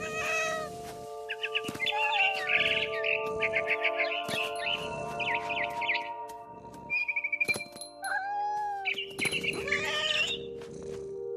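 A video game cat meows repeatedly in short and drawn-out cries, some almost yowling, close and loud over a low steady hum with faint clinks.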